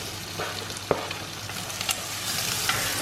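Onions and squid masala sauté in a pan, a dense, even sizzle close by with a couple of light spatula clicks over three seconds.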